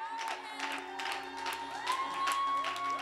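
A church congregation applauds and cheers during a Sunday worship service, with steady clapping mixed with whoops and shouts, filling the room at a fairly even level throughout.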